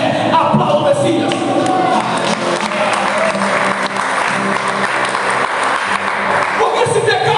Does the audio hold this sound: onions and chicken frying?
no